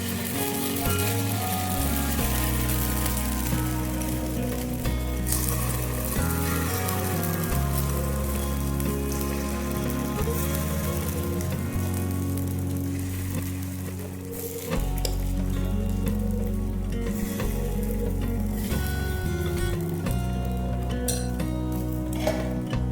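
Masala paddu batter fries in an oiled paddu pan with a dense crackling sizzle like rain on a surface. Occasional metallic clinks of utensils break in, and the sound briefly dips midway before resuming, with no talking.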